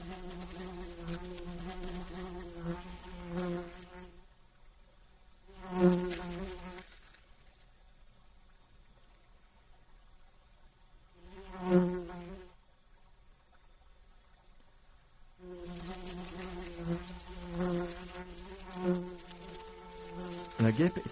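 A wasp buzzes loudly and continuously while fighting ants, its drone rising in several swelling bursts and dipping into quieter stretches, close and alone with no talk.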